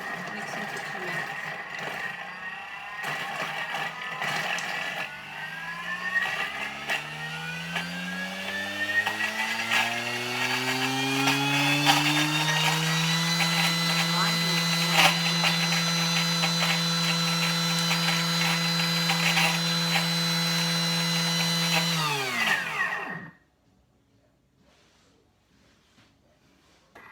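A Thermomix TM6 kitchen machine stirs a sweet potato and cauliflower curry, its motor whirring up in pitch to a steady, close hum for about twenty seconds before cutting off abruptly, with faint talk early on.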